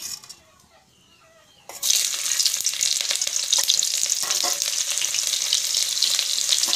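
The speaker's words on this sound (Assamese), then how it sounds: "এতিয়া মিঠাতেল দি লওঁ তেল গৰম হৈ গৈছে এতিয়া পিঁয়াজ দি লওঁ" Onions hit hot mustard oil for an Assamese taro-greens and fish-head curry, a sudden loud burst of sizzling that jumps up from near quiet and stays as a strong, steady crackle with occasional stirring.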